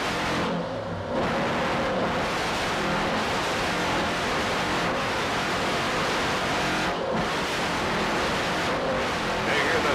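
A 46-foot Skater racing powerboat runs flat out on open water, a loud, unbroken roar of engine and rushing wind and spray carried from onboard for the whole stretch.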